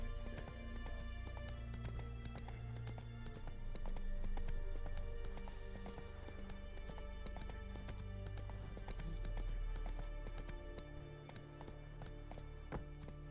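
Hooves of Roach, a horse in The Witcher 3 video game, clip-clop at a steady gallop on the ground, a continuous rhythmic patter of close footfalls over low game ambience, with no speech.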